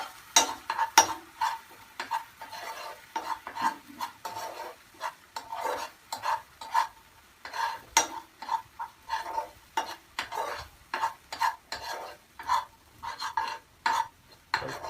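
A spoon stirs a homemade arthritis and rheumatism remedy mixture in a hot pan, making repeated scraping strokes in a fairly regular rhythm. Each stroke is close and distinct, with quiet pauses between them and no speech.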